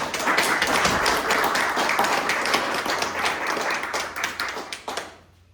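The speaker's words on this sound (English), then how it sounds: "let's have a round of applause for everybody who's been up there so far." A crowd claps and applauds steadily, fairly loud, then the clapping thins out to a few scattered claps and fades to silence.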